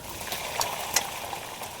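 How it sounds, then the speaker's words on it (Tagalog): Steady, soft sizzling of chicken frying in a pan, with a few faint pops and crackles, no voices. "Tapos sa kabila naman, nagpiprito ng manok."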